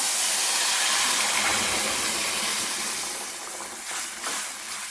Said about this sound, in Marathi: आता ही डाळ आपण फोडणीला टाकून घेऊया